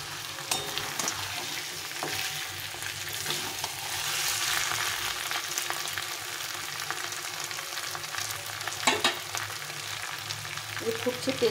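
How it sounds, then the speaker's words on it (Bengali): Mutton being fried down in oil in a pan sizzles steadily and loudly, with occasional stirring clatter and no talking. "মাংসটা কষা হয়ে গেছে, তেল ছেড়ে দিয়েছি"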